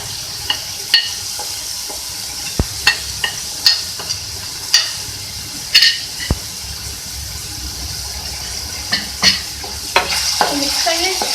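Chicken frying in a pan with turmeric powder while being stirred, a steady close sizzle broken by repeated sharp scraping knocks of the spoon against the pan, with no talking.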